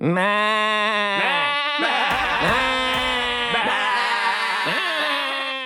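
Several loud, wavering bleats from goats or sheep follow one another in quick succession, close by, with no talking.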